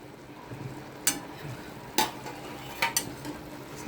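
A spoon scrapes and stirs a steamed vegetable of dill, spinach and raw mango in a pan, soft separate clinks about once a second over a quiet low sizzle, close by and with no talking.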